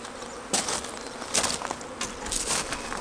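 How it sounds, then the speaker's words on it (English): Honeybees from a nuc box buzz in a dense, steady swarm as they are shaken into a full-sized hive, with several louder bursts of buzzing and scraping as the box is knocked. "just shake the bees out of the box"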